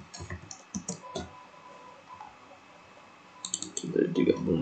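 Sharp clicks on a computer running PLC programming software come in a quick irregular burst at the start and again near the end, close and fairly faint, with someone talking softly underneath.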